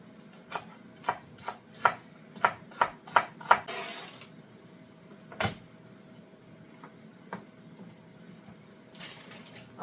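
Celery being chopped on a cutting board in a home kitchen: a quick series of about eight sharp knife strikes, then a few scattered knocks and clatters, close and fairly quiet.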